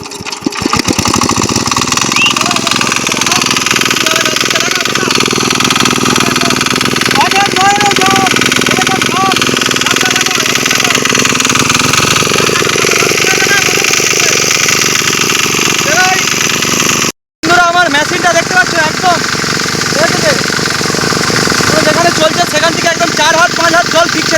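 A hand-cranked irrigation water pump engine runs steadily by a pond on a farm, a loud continuous chugging drone throughout, with people talking over it.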